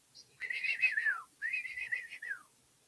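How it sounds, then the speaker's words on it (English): Two close whistled phrases, each a warbling tone that wavers and then slides downward, separated by a short pause, clear and alone. "but this whistling is mixed in"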